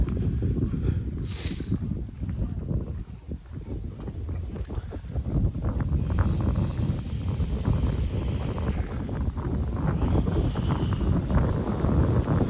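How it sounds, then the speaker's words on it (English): Steady wind blowing beside a loch, buffeting the microphone with a continuous loud rumble that swells and holds throughout. "there's the wind blowing up now. Out here. It's whipping up."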